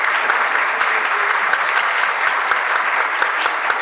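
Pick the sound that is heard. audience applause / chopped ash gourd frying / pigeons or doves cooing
audience applause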